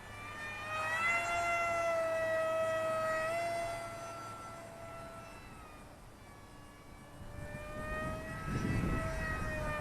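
An Eachine F16 RC jet kit converted to a pusher propeller flies overhead, its steady whining motor tone shifting in pitch as it passes, fading slightly mid-pass, then returning louder with wind rumble near the end.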